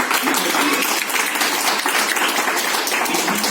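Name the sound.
audience applause at school Republic Day celebration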